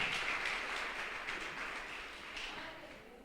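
Church congregation applauding during a sermon, a dense wash of clapping that fades slowly over a few seconds and stays fairly quiet and distant.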